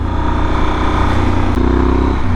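A Yamaha Super Tenere motorcycle fitted with an aftermarket aero exhaust and slip-on rumbles close and loud, its deep engine note rising in a brief rev near the end.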